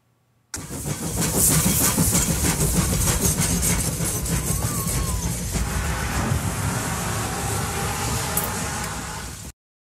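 A train rumbles past close by, a loud continuous roar of wheels and engine with clattering, holding steady before cutting off.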